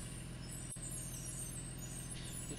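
A school bus idles with a steady low engine rumble, and its air brakes give a sharp hiss near the start, heard close from inside the bus with no talk.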